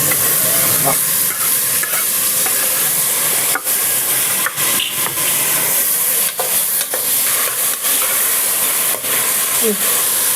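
Tomatoes for veg pulao are stirred and fried in a pan, giving a loud, continuous sizzle with repeated scraping strokes of the spoon.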